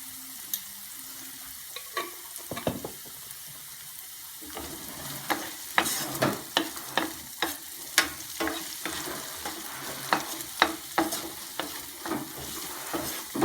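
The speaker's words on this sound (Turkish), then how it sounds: "Duz əlavə etdiyimiz zaman soğanlar daha tez karamelize olunur və rəngini dəyişməyə başlayırlar kavrulurlar." Onions with salt fry and caramelize in a pan, a steady close sizzle punctuated by a run of crisp stirring scrapes and taps, with no one talking.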